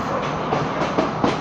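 A new passenger train running on the Kandy line in Sri Lanka, heard from inside as a steady rolling rumble with rhythmic clickety-clack of wheels over rail joints and a few sharper jolts.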